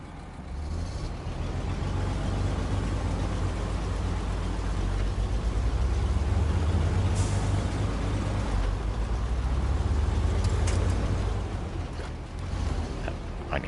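In the game SnowRunner, a truck tows a Chevrolet with a steady low engine drone and rumble, punctuated by faint creaks and clanks, continuous throughout.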